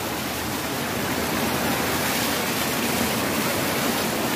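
A swollen river running high with excess water gives a loud, unbroken rushing roar, close and steady throughout with no voices.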